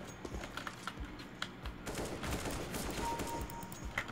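Counter-Strike: Global Offensive gunfire plays at low level as quick, sharp shots and short bursts, closely spaced and irregular, mixed with rapid clicking of a computer keyboard.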